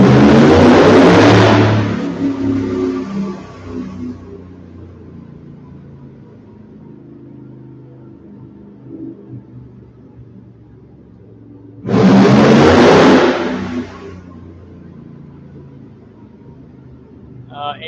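A car engine roars loudly as it revs past, fades into a low hum, then surges again in a second loud pass.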